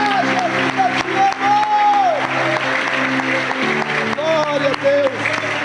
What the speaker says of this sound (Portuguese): Se você pode, aplauda bem forte o Senhor.